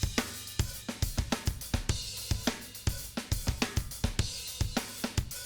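A soloed drum kit plays a steady groove with loud, heavily compressed room microphones. Hits and cymbal washes are dense and splashy, and punchy, regular transients pump throughout.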